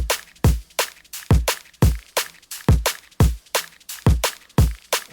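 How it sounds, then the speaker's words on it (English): A heavily reverbed hi-hat loop rides over hard-hitting drums in a neurofunk track, bright washed-out ticks smearing between sharp beats in a fast repeating pattern, loud and upfront with no voices. "just another sort of hat loop that's been like really reverbed out"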